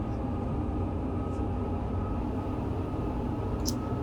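Heavy freight train rumbling along the Sherman Hill line in Train Sim World 2, heard from the cab as a dense, continuous low roar with a steady mechanical hum and a couple of faint high squeaks.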